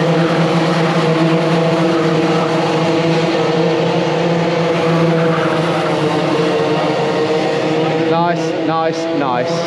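Club 100 racing kart engine lapping a track, a loud, close, continuous drone with steady pitch and brief rev changes near the end, with someone talking over it.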